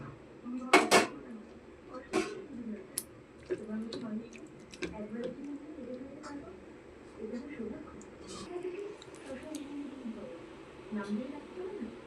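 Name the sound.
marinated chicken poured into a bowl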